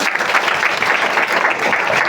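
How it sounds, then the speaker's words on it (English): An audience applauds after a talk, a dense, loud wash of clapping filling the whole short stretch. "give us a round of applause."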